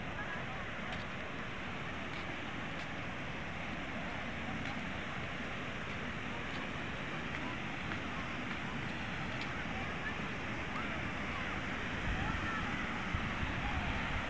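The Amrit Dhara waterfall on the Hasdeo river in Chhattisgarh roars as a steady, broad rush of falling water, heard from some distance, with faint voices and occasional small clicks over it.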